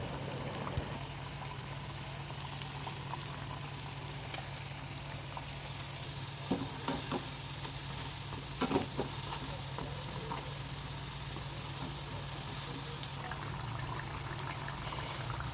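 Karigadubu sweets fry in hot oil, giving a steady, continuous sizzle and bubbling with a faint low hum beneath and a few small clinks, close and even throughout.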